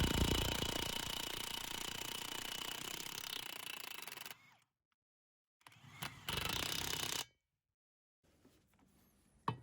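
A Parkside cordless impact wrench hammers loudly at rusty old 32mm lug nuts in two bursts: a long harsh rattle of about four seconds, a pause, then a shorter burst, followed by quiet.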